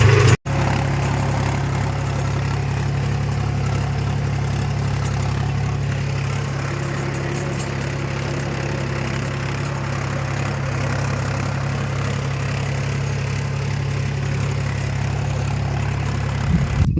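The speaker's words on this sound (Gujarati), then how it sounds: "ટ્રેક્ટર એક આગળ થઈ ગયું છે અને ખેતરે આવી ગયું છે" A tractor engine idles steadily nearby at a farm field before ploughing, a constant low drone that holds for the whole stretch with no talking.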